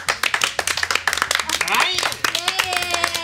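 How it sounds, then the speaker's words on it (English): A small group claps during a Mafia de Cuba board game session, with quick, close, sharp claps in a brisk burst while voices talk and laugh over them. "I didn't mean to start an entire applause"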